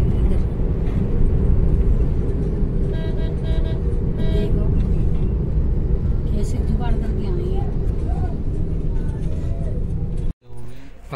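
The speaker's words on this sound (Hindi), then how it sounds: "बहुत ट्रैफिक है, 15 मिनट से फंसे हैं, कहीं निकालने की भी जगह नहीं है।" Dense road traffic in a jam, with steady engine rumble from surrounding cars and buses and a few short horn toots, heard from inside a car under ongoing speech.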